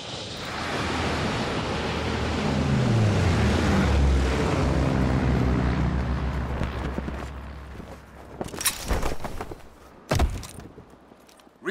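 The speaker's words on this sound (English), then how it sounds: "Fighter pilot inbound, straight into town." A fighter aircraft in Call of Duty: WWII sweeps overhead, its roaring engine rising into a loud descending drone that fades. Sharp cracks and impacts follow near the end.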